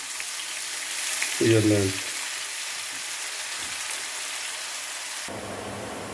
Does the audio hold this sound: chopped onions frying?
yes